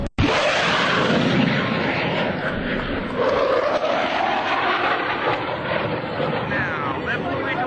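US Navy Blue Angels jet aircraft flying in formation at the 2003 Dayton airshow, a loud continuous roar that swells and sustains throughout, with faint commentary beneath.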